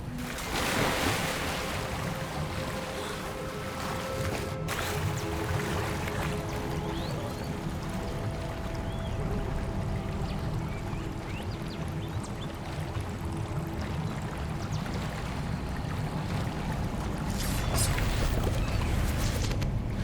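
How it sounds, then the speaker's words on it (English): Water bubbles and churns steadily from a spot at a lake in the video game Hogwarts Legacy, a continuous wash of gurgling noise holding at even loudness. "Look, where the water's bubbling."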